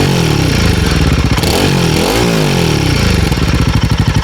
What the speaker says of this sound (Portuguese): A moto parada assim, acelerando, no caso em marcha lenta, você repara que o ronco fica mais encorpado, fica mais grosso.